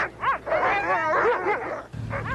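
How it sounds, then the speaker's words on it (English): Dogs of a sled team in Antarctica bark, yip and whimper close by in a quick, overlapping burst, with one deeper bark near the end. "A sled and dog team,"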